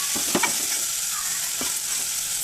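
Ridge gourd pieces are stirred in a hot pan with a steady, close sizzle. A couple of quick spatula scrapes come early and another comes later, with no talking.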